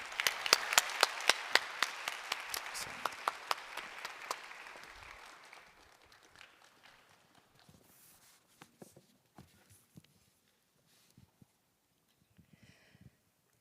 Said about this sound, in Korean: 우리 박수로 맞이해 주시길 바랍니다